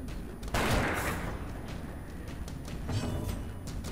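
A gunshot fired at a skeleton in the dark fantasy game Darkest Dungeon: one loud sharp blast with a sizzling crackling tail, followed by a low rumbling ambient backdrop and a smaller impact.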